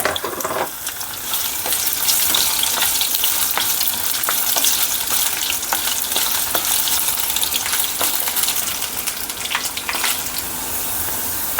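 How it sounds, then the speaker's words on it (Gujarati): Potatoes frying in oil in a pan for a ridge gourd and potato curry, giving a loud, dense, continuous crackling sizzle close up that runs unbroken through the clip. "જો આપણે બટેટા તળાય છે"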